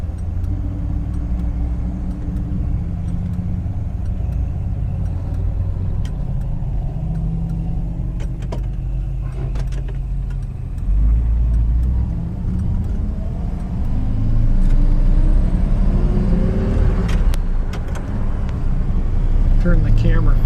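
A 1959 Chevrolet Bel Air cruises a country road on a fall color tour, its engine and road noise a constant low rumble that swells louder and revs up in the latter half, with occasional clicks and rattles inside the cabin.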